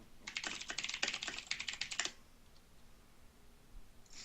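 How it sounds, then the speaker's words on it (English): Rapid, close computer keyboard typing with sharp clicking keystrokes, heard alone for about two seconds before falling quiet. "I can hear you clicking."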